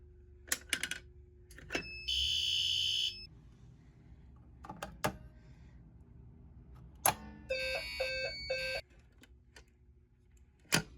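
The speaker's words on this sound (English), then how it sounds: "This is what it looks like to pull a fire alarm." A pulled fire alarm rings out in loud, buzzing bursts, two sustained stretches of harsh electronic tone separated by clicks and sharp knocks.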